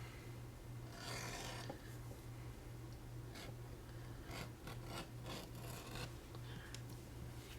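A file rasps across a Plumb hatchet blade, with repeated gritty strokes of varying length against a faint steady hum, close and fairly quiet with no talking.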